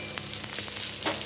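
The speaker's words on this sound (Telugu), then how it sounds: "చట్నీకి తాలింపు అన్నమాట" Tempering for chutney sizzles hot in oil, a close, crackling fry with uneven spattering bursts over a brief moment and no talking.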